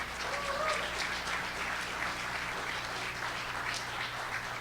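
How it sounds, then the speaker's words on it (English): Audience applause at a high school Shark Tank pitch event: a soft, even patter of many hands clapping that holds steady for several seconds, heard from a distance and fairly quiet. "Round of applause for yourselves."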